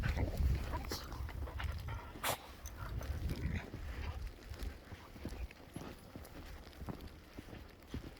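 Dog walk through a fresh foot of snow during a Sierra Nevada snowstorm, with soft crunching footsteps, rustling and gusty wind, some brief knocks and jingles, fairly quiet and continuous.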